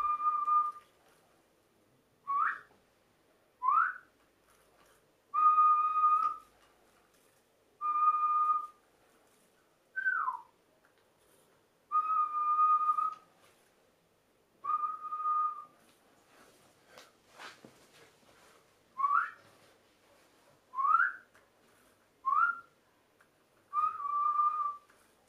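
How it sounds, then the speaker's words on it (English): Sheepdog command whistles give about a dozen short, clear human-whistled notes with pauses between them: rising 'up' calls, falling 'down' calls and flat steady tones, plus a faint click midway, all in a quiet room. "I've got whistle up and a whistle down, and then a flat whistle and a click."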